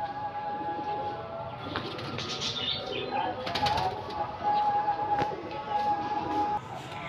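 A young pet pigeon with clipped wings flutters and flaps close by, with soft cooing and bird calls mixed into a busy background of ambient noise throughout.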